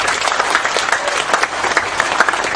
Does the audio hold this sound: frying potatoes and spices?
no